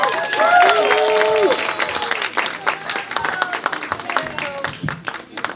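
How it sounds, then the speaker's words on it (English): Party crowd clapping for the trivia hosts at a 60th birthday show, a sustained burst of applause with whoops and voices mixed in, loud at first then thinning into scattered claps. "Give a big round of applause for them."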